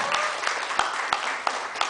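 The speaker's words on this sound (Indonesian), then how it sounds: "Sekali lagi tepuk tangan yang meriah kepada Mr." Audience claps after a piano recital for a Trinity College London ATCL diploma, a brief burst of steady applause with a few sharper claps standing out at regular intervals.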